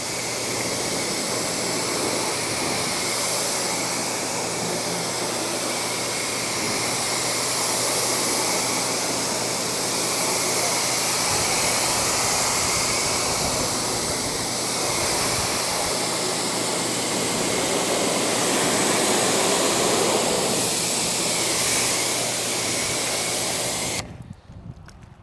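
A pressure-washer spray rinses soap suds off a ceramic-coated car, a steady loud hiss of water jets that continues unbroken for the whole stretch before cutting off abruptly at the end.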